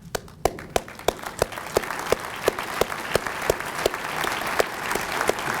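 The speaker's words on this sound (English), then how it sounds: "let's give them a great round of applause" Audience applause at a Corvette Hall of Fame awards ceremony, with a few loud, slow individual claps at first, then denser steady clapping from a crowd that builds and carries on.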